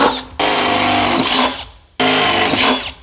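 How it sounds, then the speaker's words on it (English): A power drill whines loudly in two sustained bursts drilling through the floor of a Ford Transit van, each running over a second, with a brief pause between them. "So then you just get it in place and drill through."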